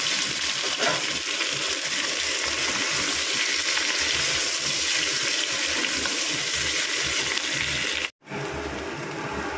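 Boiled potatoes fry with coriander, cumin, chilli, turmeric and salt in a pan, a constant loud sizzling hiss that holds steady and cuts out for a moment near the end.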